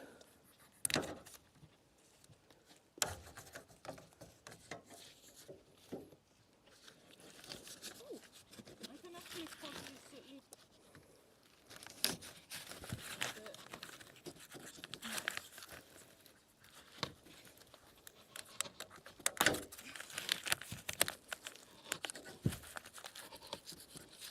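Plastic sheeting over foundation insulation boards being cut on a construction site, faint intermittent tearing and crinkling scrapes in irregular bursts with quiet gaps.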